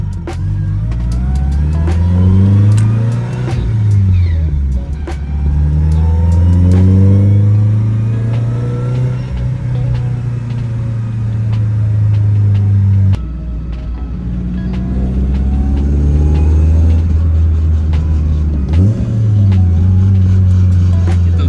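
A TDI diesel car engine, damaged and blown, revs up and drops repeatedly through downshifts, a loud close rumble rising and falling in pitch over about twenty seconds with a brief break midway.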